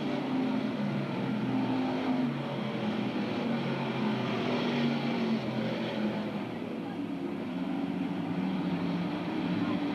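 Race cars lap Bedford Speedway, engines droning and surging continuously in the distance beneath a public-address announcer's voice.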